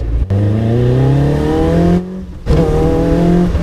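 Caterham 420R sports car engine revving hard as it accelerates through the gears, loud and close, with a brief dip at a gear change and no speech.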